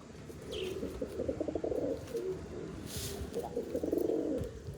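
A big pigeon gives low, rolling coos in two drawn-out phrases, quiet and close against a faint background hiss.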